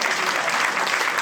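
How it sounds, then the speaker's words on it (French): Steady audience applause at a cycling team's season presentation evening in Brittany, a dense, even clatter of clapping hands filling the room for a rider, brief and without pause. "Merci de lui réserver vos applaudissements."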